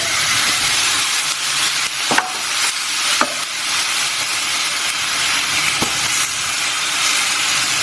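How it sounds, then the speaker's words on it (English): Pork sears in a hot wok, a loud, continuous sizzle and crackle with a few sharp pops spaced a second or more apart, close up and with no talking. "In a hot wok, I'm going to try and sear this pork and see if I can brown it."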